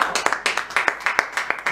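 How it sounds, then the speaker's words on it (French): Church congregation clapping in a rough steady rhythm, sharp hand claps repeating about every fifth of a second, moderately close and filling the brief moment without speech. "Veuillez vous asseoir et acclamer pour la parole de Dieu."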